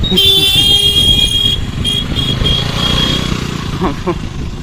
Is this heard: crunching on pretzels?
no